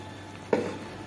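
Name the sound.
fritters frying in a little ghee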